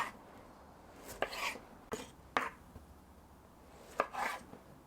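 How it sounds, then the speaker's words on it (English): Tomatoes cut into pieces with a knife on a board, a few sharp separate chops with short pauses between them, close and fairly quiet. "What we're going to do is half these, and then we're going to either cut them into 3 or 4 depending on the thickness"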